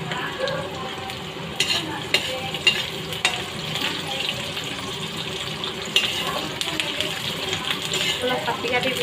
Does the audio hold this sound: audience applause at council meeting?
no